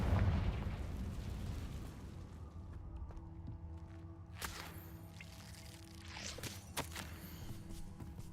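Confringo fire spell explosion in the Hogwarts Legacy video game, a heavy booming blast at the start that rumbles and decays, followed by sharp cracks and whip-like bursts of combat effects.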